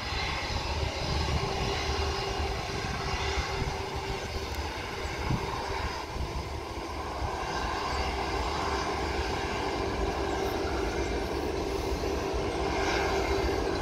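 A steady, loud jet engine roar fills the air, a continuous broad rumble of a Superjet airliner idling on the ground before takeoff at Sultan Hasanuddin International Airport, Makassar, without pauses.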